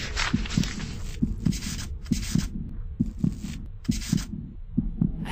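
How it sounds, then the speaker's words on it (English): Heartbeat sound effect in the horror video game The House 2: loud, close, steady paired thumps repeating at a quick pulse over a harsh, pulsing noise bed, with no talk. "My heartbeat's just getting faster."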